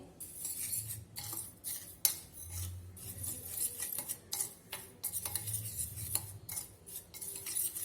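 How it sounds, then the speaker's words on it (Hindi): A metal spoon stirs coffee and sugar in a mixing bowl, giving repeated close clinks and scrapes against the bowl in an uneven rhythm, with no talking. "अब एक मिक्सिंग बाउल में कॉफी लेंगे, चीनी लेंगे, उसे मिक्स कर लेंगे।"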